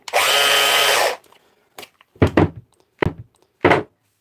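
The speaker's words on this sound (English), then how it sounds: "Milwaukee grinder." A Milwaukee power tool whirs loudly for about a second and then winds down, followed by several short, sharp knocks and thunks nearby, with no talking.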